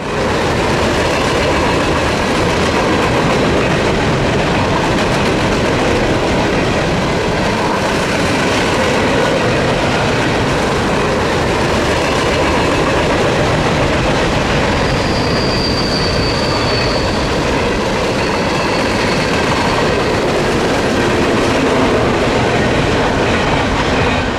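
A coal train rolls past on a mountain line, a steady loud rumble of railcars with wheel squeal and a faint clickety-clack, continuous throughout with no talk.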